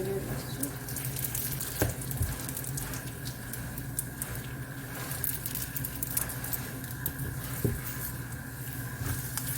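Flatbread dough made from flour, water and salt fries in hot oil, giving a steady crackling sizzle with soft patter that runs through the whole stretch at moderate, even loudness, with a few sharper pops.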